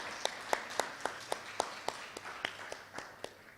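Sparse, steady hand claps from a small group, evenly spaced and fairly faint, with a roomy echo and no talking.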